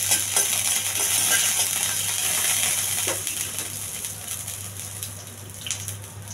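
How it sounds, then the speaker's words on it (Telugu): Husked urad dal frying in a little oil on a pan, giving a steady, crisp sizzle with faint scattered pops and ticks over a low kitchen hum, close up and without speech. "పొట్టుతో ఉన్న మినపప్పు కొంచెం దోరగా వేయించాలి."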